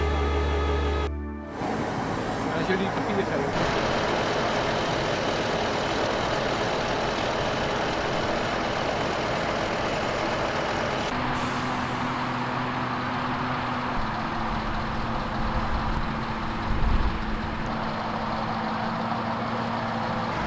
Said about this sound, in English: Slurry is brought to the field by trucks